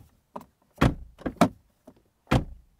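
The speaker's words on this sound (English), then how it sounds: "And this is our door slam test." A 2024 BMW 5 Series G60 door is slammed shut several times, each a solid, dull thud with a brief latch click, close and loud in a quiet setting.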